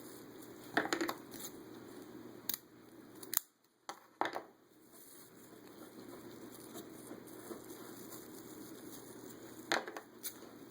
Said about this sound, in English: And cut yourself 4 strips of those as well.